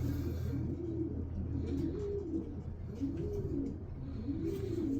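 A racing pigeon coos in a loft, repeated rolling low coos at a steady rhythm, close and moderately loud with no voices.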